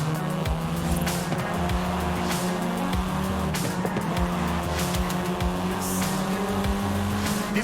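Volkswagen Golf R engine in Forza Horizon, a continuous loud buzzing drone with shifting pitch as it revs, broken by repeated tire squeals and skids throughout.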